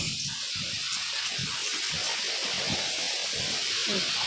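River water rushing during Typhoon Ulysses, a broad continuous roar of flowing water heard steadily throughout, with faint low voices and movement underneath.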